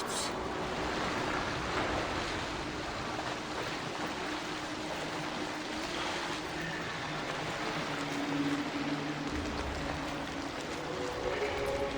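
Steady, broadband rush of falling water from a waterfall in the fantasy game Soulframe, continuous and fairly loud throughout, with a faint low rumble and no speech.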